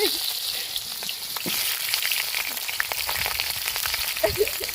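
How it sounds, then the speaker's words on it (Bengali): Potatoes fry in hot oil in a wok, giving a steady, close crackling sizzle with scattered sharp pops throughout at moderate level. "আলু ভাজবো।"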